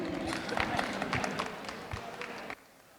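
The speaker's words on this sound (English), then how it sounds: "And with a big round of applause, We welcome you all to this Blessing Ceremony" An audience at a school blessing ceremony applauds, a dense patter of many hands clapping at moderate distance for about two and a half seconds before stopping abruptly into quiet room tone.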